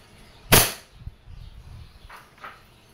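A KWC 1911 Tactical airgun fires once with a sharp, loud crack, followed by faint clicks and soft handling sounds.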